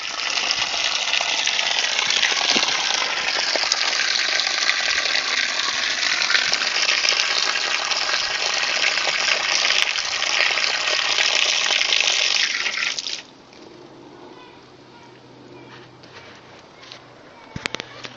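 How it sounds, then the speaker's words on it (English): Water gushes steadily through a newly fitted outside garden tap, a loud broadband rush lasting about thirteen seconds before cutting off to quiet outdoor background with a couple of small knocks. "I'm going to turn the water supply on and allow the water to run through the outside tap"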